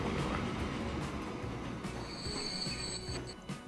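Trains rolling over track junctions in Transport Fever, a steady rumble with wheel squeal and a high sustained screech near the end, no talk.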